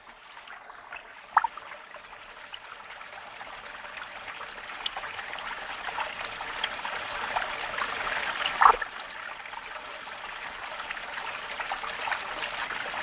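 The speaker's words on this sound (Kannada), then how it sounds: "ನಿಮಗೆ ಸ್ಪಷ್ಟವಾಗಿ ನೀರು ಹರಿಯೋದು ಕೇಳಿಸ್ತಾ ಇದೆ." River water flows past a riverbank in a steady, continuous rush that slowly builds in loudness, with a couple of brief splashy accents and no voices.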